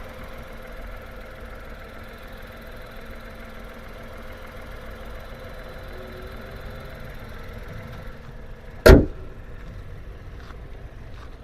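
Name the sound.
car engine idling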